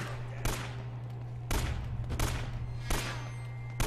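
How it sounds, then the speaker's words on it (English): Gunfire in the action game Uncharted: Drake's Fortune, with several sharp bursts of shots over a constant low hum of game background. "Shots to the ankle, man."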